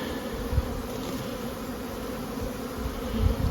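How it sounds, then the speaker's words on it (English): A small, fairly well-stocked beehive with seven frames gives off a dense, steady buzzing of many bees, close and even in loudness, with no voices. "There's a lot of bees in it."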